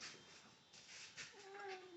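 A cat meows softly a few times, close by and fairly quiet, with a faint background hiss.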